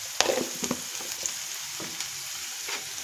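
Chana dal masala curry gets stirred in a frying pan, a soft steady sizzle broken by several scraping strokes of the spoon against the pan.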